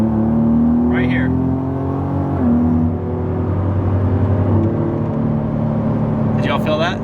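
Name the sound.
Ford Raptor driving with hard transmission shifting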